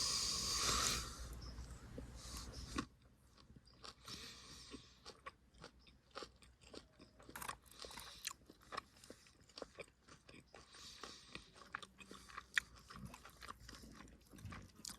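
Crunchy chicken and rice from a Russian civilian hunter-fisher ration tin being chewed up close, a long run of irregular crisp crunches and mouth sounds, with a louder noise at the very start.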